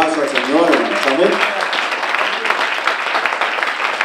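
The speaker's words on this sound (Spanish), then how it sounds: "Iglesia, denle un fuerte aplauso al Señor, hermanos." A church congregation claps loudly together in praise, with a voice singing or calling out over the first second before the steady, dense applause carries on alone.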